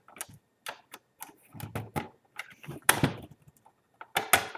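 A credit card prying apart the plastic enclosure of a Western Digital My Book external hard drive, making irregular sharp clicks, creaks and cracks up close, with a few louder snaps near the end.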